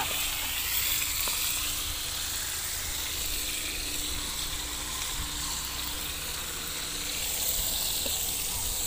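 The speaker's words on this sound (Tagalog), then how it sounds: "Nagpiprito muna kami ng tulingan bago magulay." Tuna (mackerel tuna) sizzles steadily in hot oil in a pan, a dense, continuous crackling hiss close by with no break.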